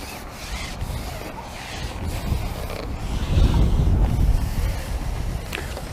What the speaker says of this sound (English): Wind's quite strong in my face now.